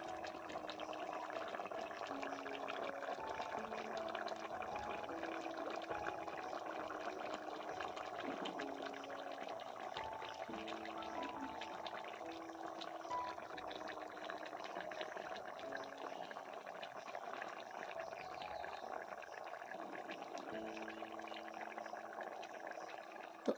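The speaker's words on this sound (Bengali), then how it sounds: "তো এখন ঝোলটাকে সুন্দর করে ফুটিয়ে নেওয়ার পালা।" Pumpkin curry gravy with rohu fish simmers in a pot, a steady soft bubbling and sizzling hiss that continues evenly throughout, faint and close.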